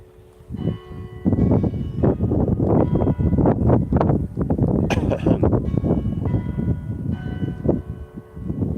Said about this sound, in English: Oh, the bells are ringing.